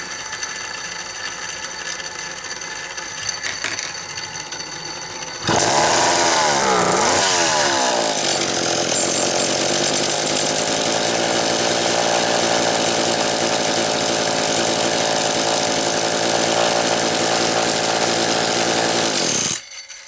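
A McCulloch Power Mac 6 chainsaw with a faulty fuel cap starts after a few seconds of quieter handling. Its two-stroke engine then roars loud and close, revving up and settling into a steady, buzzing run for about fourteen seconds before cutting off abruptly.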